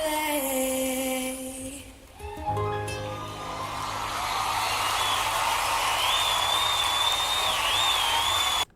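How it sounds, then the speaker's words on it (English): Crowd roaring and cheering with judges clapping after a talent-show performance, a loud sustained wash of noise that swells in after her final sung note, with a whistle-like squeal riding on top. "the whole crowd's going crazy. The judges are standing and clapping."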